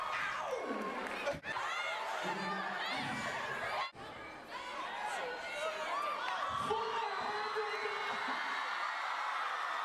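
A lively live crowd cheers and whoops with excited shouting and chatter, loud and sustained with two brief dropouts.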